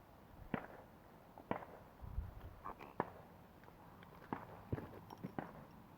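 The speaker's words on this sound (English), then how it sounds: "There's fireworks going off over there." Faint, sharp fireworks pops and cracks at irregular intervals, sounding distant, against a quiet outdoor background.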